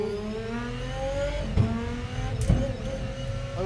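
The V12 engine of a Gordon Murray T.50s sports car revs and accelerates with a rising, harmonic-rich roar, with two sharp mechanical bursts during the pull.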